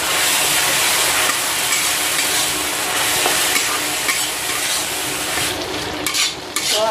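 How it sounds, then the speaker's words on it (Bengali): Spice paste frying with onions in a pan in a hill village kitchen, a steady loud broadband sizzle with light stirring scrapes throughout, alone without voices. "এখানে যে পেস্টটা বানিয়ে রেখেছিলাম এবার দিয়ে দেব। দিয়ে পেঁয়াজের সঙ্গে ভালোভাবে কষিয়ে নেব।"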